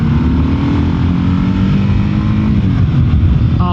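A 2024 Kawasaki KLR 650 adventure motorcycle accelerates hard, its loud single-cylinder engine droning steadily close by with the pitch slowly rising, and no talk over it.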